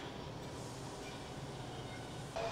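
A Metro Rail train at an Amtrak station platform gives a steady, low rumbling roar, faint and fairly distant, with a brief rise in noise near the end.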